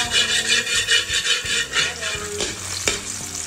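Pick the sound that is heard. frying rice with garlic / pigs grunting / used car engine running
frying rice with garlic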